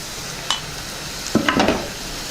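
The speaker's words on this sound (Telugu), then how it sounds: "ఒకసారి బాగా కలుపుకుందాం" Spiced rice with turmeric and chili powder being stirred in a pan for popannam, tempered rice: a single scrape, then a brief cluster of spoon-against-pan stirring strokes with faint sizzling underneath, close by.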